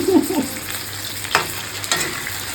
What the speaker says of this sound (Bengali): আলুটাও আর পেঁয়াজটা একসঙ্গেই ভাজছি